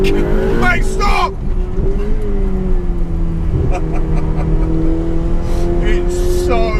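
Ferrari 488 Pista engine accelerating on a damp track, a loud, rising mechanical howl heard up close that holds a strong, steady tone as it pulls hard.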